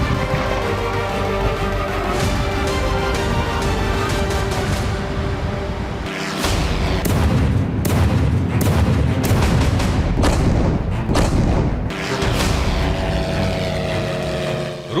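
Heavy booms and explosive blasts, reported as Russian missile strikes and artillery fire in Ukraine, ring out over a loud, continuous roaring background, with several sharp impacts clustered in the middle and latter part.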